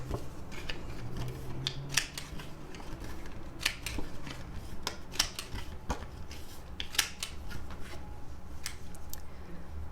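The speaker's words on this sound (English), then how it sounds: "I have to round these corners because I do love a rounded corner" Paper planner insert corners being rounded with a corner punch, a series of crisp clicking snips at irregular intervals, close and fairly quiet, with no talking.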